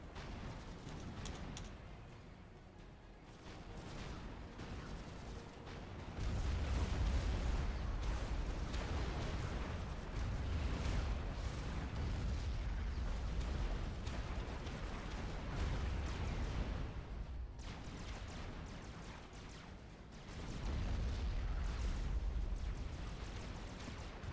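A Supreme Commander battle of rockets, lasers and explosions churns as a steady, fairly distant wash of rumbling blasts and rapid fire, swelling louder in several stretches.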